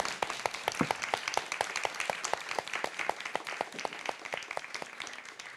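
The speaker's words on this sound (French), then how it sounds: "on peut l'applaudir" An audience at a live conversation event applauds a guest artist with steady, dense clapping made of many distinct crisp hand slaps, moderately loud and sustained throughout.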